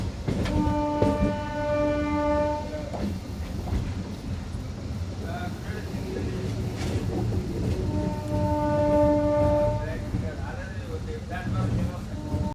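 A MEMU express train on the Bhimavaram–Machilipatnam line nears Gudivada junction, sounding two long, loud horn blasts over a steady rail rumble and clatter, with voices talking faintly in between.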